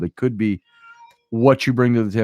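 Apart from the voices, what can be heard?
cat meowing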